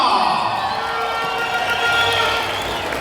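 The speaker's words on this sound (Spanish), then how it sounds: "Los vamos a recibir con fuertes aplausos, público conocedor" A festival crowd at the San Marcos Huista fair cheers and applauds to welcome a band, a loud, steady roar of voices and clapping throughout.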